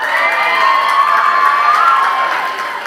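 A crowd cheers and shouts loudly and continuously for a contest winner at an evening event, with children's shrieks mixed into the steady roar.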